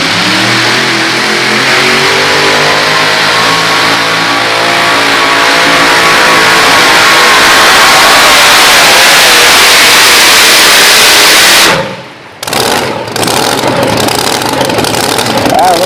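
Modified pulling tractor at a county fair pull, its engine roaring and revving hard under sustained load for about twelve seconds before cutting out abruptly, then sputtering briefly, with an announcer talking over it.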